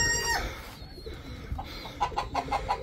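Aseel hens cluck while being moved into a cage, short soft clucks repeating close by in a quick series near the end, with rustling and birdcage clatter beneath.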